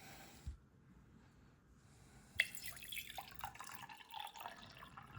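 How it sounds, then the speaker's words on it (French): Water trickles and splashes into a container holding a sweet potato, starting with a faint drip and then a steady, soft pour at close range, quiet throughout and with no speech. "Ensuite, vous pouvez mettre l'eau avant."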